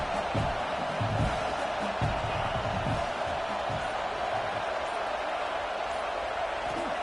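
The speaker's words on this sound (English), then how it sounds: "This crowd bringing the energy and noise early." Stadium crowd in an American football video game makes a dense, steady roar throughout, with scattered thumps and low murmurs under a broad wash of noise.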